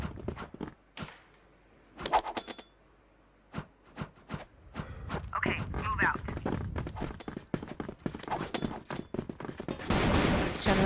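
Rapid gunfire and sniper shots in a shooting video game match, loud repeated bursts and single cracks with talk over the action.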